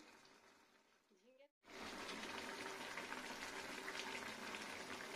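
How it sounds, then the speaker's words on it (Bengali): Potato curry with ridge gourd and poppy seed bubbles in a pan, a soft simmer that turns to a dense, steady boil after a brief silence, with no one talking. "ফুটছে এখন।"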